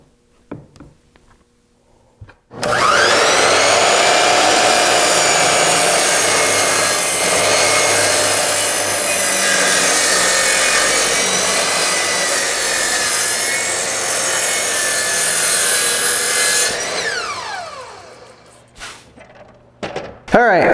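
An oiled end grain wooden cutting board is sawn in half, a loud continuous rasping cut running steadily for about fourteen seconds before stopping, followed by a few faint knocks.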